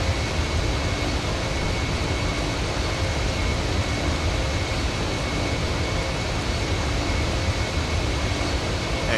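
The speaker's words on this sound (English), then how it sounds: "Now I'll show you the auto takeoff" A Boeing 737 doing an automatic takeoff in a modded Grand Theft Auto 5, heard as a loud, steady jet engine roar that stays broad and unbroken throughout, with no voices.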